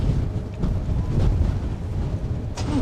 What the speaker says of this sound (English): Boy, that was a pretty big gust right there